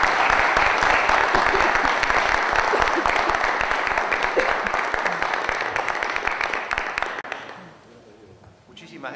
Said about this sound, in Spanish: Voy a pedir un fuerte aplauso por el trabajo en seguridad ciudadana del municipio.